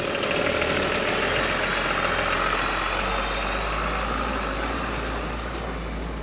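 A 13-tonne 4x4 camper truck's diesel engine rumbles steadily while driving, with a deep, constant drone and a faint mechanical clatter, loud and close throughout.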